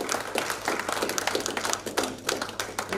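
Audience applause for a dance company at a university literary awards ceremony, a close, fairly loud patter of many hands clapping over a low background hum.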